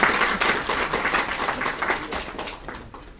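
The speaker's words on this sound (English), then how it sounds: "let's all give a big round of applause to our chief guest" Audience applause for the chief guest at a one-day drug sampling training program, a dense burst of many hands clapping that fades slightly toward the end, no talk.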